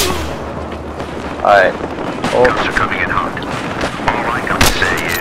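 Gunfire and booming explosions in a Team Deathmatch round of Battlefield Hardline multiplayer on Xbox One, heavy bursts and sharp shots mixed with game voices and a player talking.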